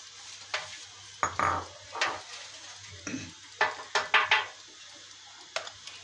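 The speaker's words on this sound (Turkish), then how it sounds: "Bir kez daha Şöyle çırpalım." Walnut cake batter being whisked in a bowl, several bursts of clattering, scraping strokes at close range in uneven rhythm, separated by brief pauses over a low background hum.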